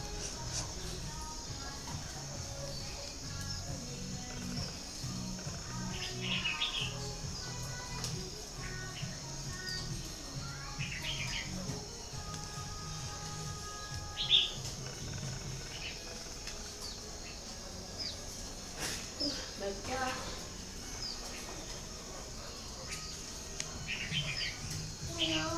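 Flock of Japanese/French quail-doves kept on a Vietnamese bird farm that was converted from chicken raising, giving scattered faint chirps and calls throughout over a quiet hum, with occasional talk.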